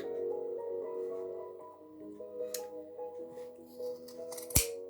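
Scissors snipping yarn while making a pompom, a few quiet cuts over soft handling noise, ending in one crisp close snip.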